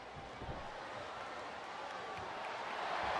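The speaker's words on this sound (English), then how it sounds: "This capacity crowd is making their opinions known tonight." Arena crowd noise from the WWE SmackDown vs Raw 2008 video game, a steady broadband roar of a capacity audience at a wrestling event that swells slightly louder toward the end, with no talk over it.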